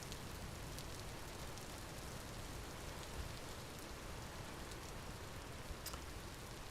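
Rain falling in the survival game Vintage Story, a steady, soft hiss of dense rainfall with occasional faint drop ticks, constant and even with no other sounds.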